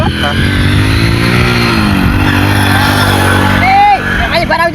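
A motorcycle engine runs steadily up close, with a loud continuous rumble and a brief rise in revs near the end as people talk over it.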